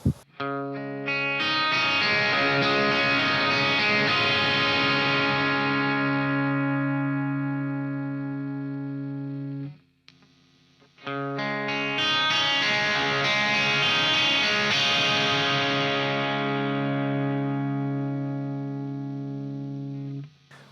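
Overdriven electric guitar played through an amp modeler: two long sustained distorted chords ringing out, each fading slowly before a short gap.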